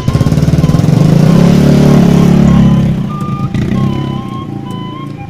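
A motorcycle engine runs loud and close with a rapid pulsing idle that thins and drops after a few seconds, while a high beeping tone and faint voices come through over the fading engine.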